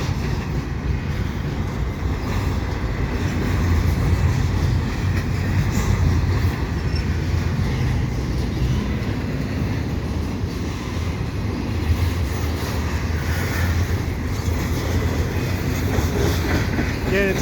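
CP freight train 120, hauled by three sets of engines, rumbles steadily past at Dorval while switching from track 1 to track 2, a continuous low rolling roar with faint wheel clatter and no talk.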